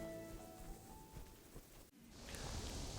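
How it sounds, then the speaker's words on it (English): Rain in the video game Kingdom Come: Deliverance: a faint, soft hiss of falling rain that swells louder toward the end. "Oh, it's raining again."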